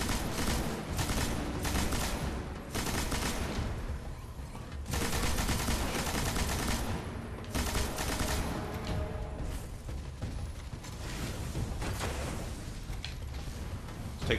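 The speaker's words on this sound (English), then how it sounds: "Loving this machine gun." Sustained machine gun fire in Destiny on Mars, long loud bursts of rapid shots broken by brief pauses, with clanking mechanical game sounds in between.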